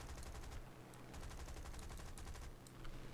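Machine guns of a Hurricane Mk1 fighter plane in the air-combat game War Thunder, firing a steady, dense rattle that holds loud and unbroken for a few seconds.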